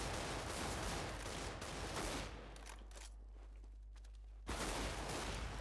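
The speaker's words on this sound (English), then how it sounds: "I shot him" Bursts of rapid gunfire in Counter-Strike: Global Offensive crackle loudly, then drop away briefly before the shooting resumes, with no talk.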